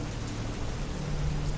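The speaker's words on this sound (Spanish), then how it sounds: "La lluvia golpeaba el techo" Steady rain drums on the roof of a parked vehicle, a dense, even hiss of drops with a low rumble beneath, constant throughout and close, with no voices.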